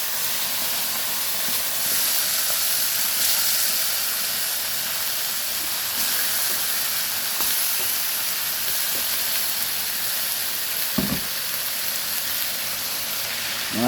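Pork leg (pata) simmering in broth in a home kitchen pot, giving a steady close hiss and bubbling wash with a few brief clinks, no talk.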